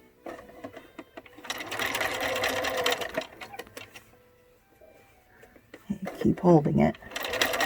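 A sewing machine stitches a fabric face mask in bursts, its rapid mechanical whir starting and stopping between pauses, with a voice speaking briefly near the end.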